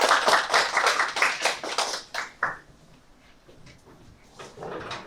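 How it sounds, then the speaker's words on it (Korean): Seminar audience clapping for a centre director coming up to speak, dense applause for about two and a half seconds that then thins into a few scattered claps and room noise. "나오실 때 큰 박수 부탁드리겠습니다"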